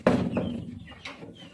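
Chickens being given feed let out two short, close clucks, a sharp one at the start and a softer one a second later.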